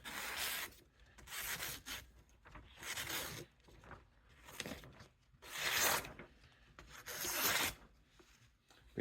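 A 12-inch Henckels chef knife, freshly honed on a 600-grit stone, slices through paper in several separate scraping, tearing strokes, close up and crisp, with pauses between each cut.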